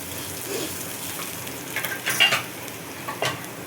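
Onions and masala frying in a pan for chicken puli munchi, a soft steady sizzle with a few sharp scrapes and stirs of a utensil against the vessel partway through, no voices.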